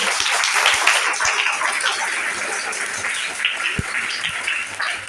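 Sustained applause from a Kavi Sammelan audience welcoming a poet to the stage, a dense steady wash of many hands clapping at moderate distance.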